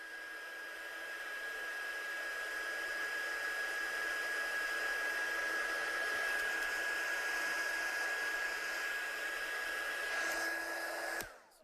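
A hair dryer runs steadily at close range to dry watercolour ink on a handmade card, giving a continuous whirring blow with a thin whine that cuts off abruptly near the end.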